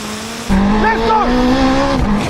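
A Honda Integra Type R and a Porsche 918 Spyder launch in a drag race, engines surging loudly with rising and falling whines and rough exhaust roar that holds steady after a sudden start.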